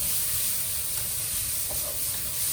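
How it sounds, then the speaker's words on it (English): Chopped onion frying in a pan for char siu fried rice, giving a steady, close, dense sizzle throughout with no talking. "I'm just gonna fry it up until it's fragrant"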